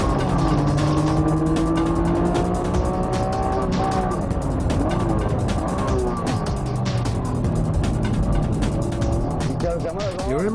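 Honda NSX-R on slick tyres lapping a race track, its engine note rising and falling steadily through tight corners, with other cars' engines mixed in and a voice speaking over the constant loud roar.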